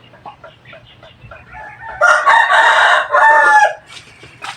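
A chicken clucks in short, soft bursts, then a rooster lets out a loud, drawn-out crow close by, followed by another shorter call.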